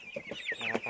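A 28-day-old broiler chicken gives a quick series of close, loud clucks and squawks over about a second, with no talk.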